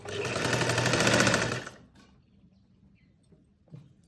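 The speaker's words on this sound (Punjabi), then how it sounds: "ਹੁਣ ਆਜੋ ਜੀ ਤੁਹਾਨੂੰ ਆਪਾਂ ਸਲਾਈ ਲਾ ਕੇ ਦਿਖਾਉਣੇ ਆ" A sewing machine runs loud and close for about a second and a half while stitching a sleeve, giving a steady rapid whir, then stops and leaves faint handling clicks.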